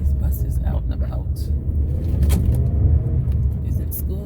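Buses rumble past on a road with a steady low engine drone and traffic noise, heard under someone talking close by.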